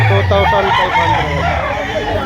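An alimbuyugan rooster crows amid a poultry market in Lipa, a strained, drawn-out call rising over steady crowd noise while people talk nearby.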